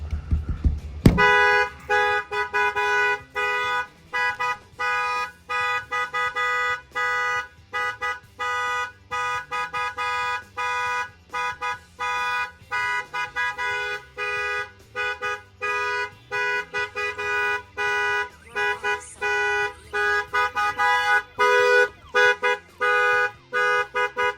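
A loud Jeep Gladiator pickup truck alarm blares continuously, cycling through a repeating pattern of electronic tones and honks with no pauses.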